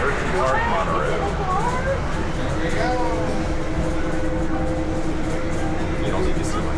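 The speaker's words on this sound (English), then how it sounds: "off we go on the Hersheypark Monorail." The Hersheypark monorail pulls away and rides along with a steady rumbling roll and rising whines. A voice talks over it close by.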